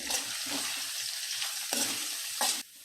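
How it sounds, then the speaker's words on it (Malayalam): Sliced onions sauté in a hot pan with salt, slit green chillies and garlic, giving a steady close sizzle broken by a few quick scraping stirs. "നമുക്ക് ഈ സവാള നന്നായിട്ടൊന്ന് വഴറ്റിയെടുക്കാം"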